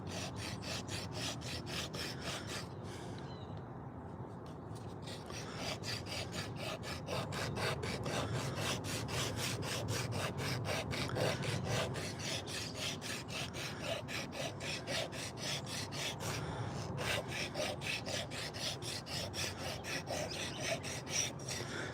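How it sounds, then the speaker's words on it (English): A high-speed sander working a hand-carved wooden spoon, giving a continuous close rasping, rubbing drone that briefly lifts off the wood twice, with no talking. "Get our little high-speed sander system here going."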